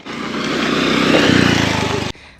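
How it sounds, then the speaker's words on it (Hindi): A motorcycle engine runs steadily close by in a Thai village near Myanmar, loud and droning with a shift in pitch partway through before cutting off abruptly. "तो ये है इनका फेवरेट बाइक, देखो कुछ ऐसा होता है"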